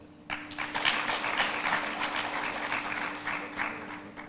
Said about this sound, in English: I would like you to give them a special clap.